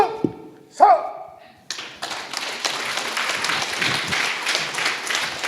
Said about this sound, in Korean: 동감을 하시면은 다들 박수로서 환영해 주시고 격려해 주시면 고맙겠습니다.